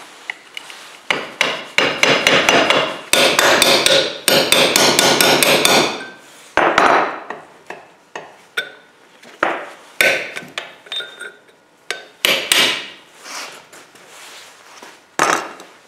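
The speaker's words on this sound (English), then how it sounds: "I'm just going to use a screwdriver or something hard to hammer it out" A screwdriver is hammered against a metal dust shield during a Jeep slip yoke eliminator install, giving loud, sharp metallic strikes in quick bursts and then in slower, spaced single blows, with no talking.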